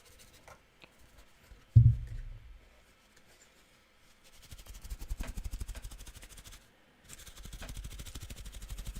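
Paintbrushes being cleaned with solvent and paper towel: rough scrubbing and wiping bursts, a sharp knock, then two long stretches of rhythmic rubbing, close and fairly loud, with no talking.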